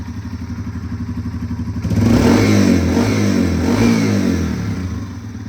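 A Yamaha TW200 motorcycle left outdoors for years, running again: its single-cylinder engine idles with a rapid lumpy putter, then swells louder and rougher before settling, close up with no voices.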